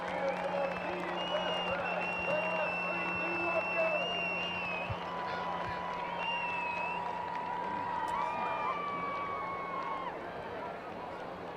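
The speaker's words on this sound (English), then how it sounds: "let's cheer for Team Fast Tracks" A large outdoor crowd cheers steadily at the Balloon Fiesta's Night Magic Glow, with whistles and whoops rising above a constant low hum for about ten seconds before easing slightly.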